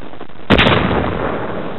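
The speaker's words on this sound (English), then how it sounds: "armed the Chinese with black powder to blast their way through" Black powder blasting in foothills for railroad cuts: one sudden heavy boom that rolls into a long, loud rumbling wash which slowly fades, with no voices.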